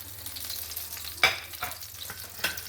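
Shrimp fry in a pan with a soft, steady sizzle, broken by a few sharp stirring scrapes and bursts of spatter, close and fairly quiet, with no talk over it.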